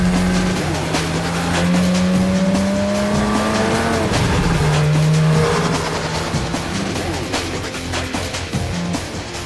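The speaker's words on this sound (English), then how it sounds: "another roll test takes the car up to speeds of 75 miles per hour" A Porsche race car roars steadily on a roll test rig at up to 75 mph, its loud engine tone sliding up and down through gear changes with sustained mechanical whine.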